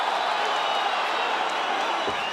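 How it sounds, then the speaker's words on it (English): A Brooklyn fight crowd roars steadily behind two battling fighters, a dense wash of cheering and shouting from a large arena audience with no break. "Brooklyn crowd getting behind these 2 warriors"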